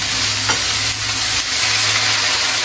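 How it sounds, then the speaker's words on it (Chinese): Beef sizzles loudly as it is stir-fried in a hot pan at home, a constant close hiss of hot oil with a few scraping strokes of the spatula. "爆炒牛肉"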